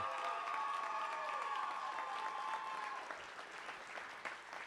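An audience at a live 2019 event applauds warmly, a continuous wash of clapping with light cheering that tapers slightly toward the end, while tonal music or feedback hums underneath early on.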